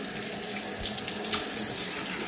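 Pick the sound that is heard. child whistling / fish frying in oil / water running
water running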